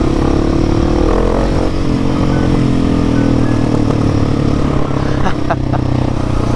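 A motorcycle engine roars loudly and continuously as it revs, rising in pitch near the end, with wind buffeting the microphone.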